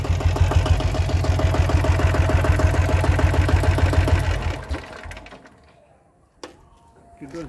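A Royal Enfield liquid-cooled diesel motorcycle engine runs close by with a loud, rapid, even clatter for about four seconds, then cuts off into quiet with a couple of faint knocks.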